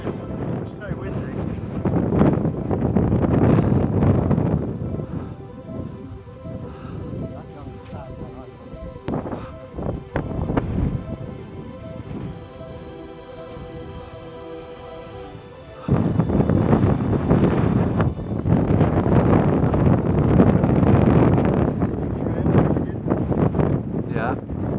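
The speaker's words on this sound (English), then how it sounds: "It was so windy." Strong wind gusts across open snowy Scottish hills during a red deer stalk, roaring buffeting rushes battering the microphone in long waves, dropping briefly midway, with quiet voices talking in between.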